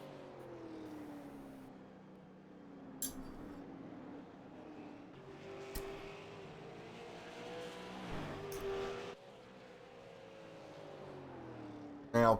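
Super late model race cars at a speedway roar past at steady high revs, the engine drone rising and falling as the pack circles, with a few sharp bangs and a commentator faintly audible.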